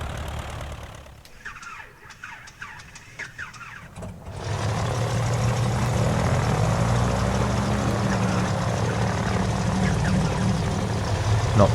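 Skymaster light twin-engine aircraft starting up in Microsoft Flight Simulator at Birr Aerodrome, Ireland: quiet clicks and whirring, then an engine catches around four seconds in and settles into a steady, loud propeller drone that holds to the end.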